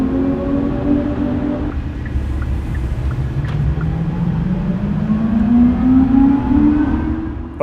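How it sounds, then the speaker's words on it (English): Inside a moving Kia EV6, a synthetic drive sound plays through the cabin: a smooth electronic hum that rises steadily in pitch as the car speeds up, over a low road rumble. "Kia has gone the route of some other EV makers and actually added an artificial sound of the cabin while driving."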